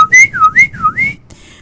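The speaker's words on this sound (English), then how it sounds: "that was the whistle that he used to use to call me" A loud, clear human whistle rising and falling in a few swooping notes, like a call signal, ending abruptly with a quiet tail.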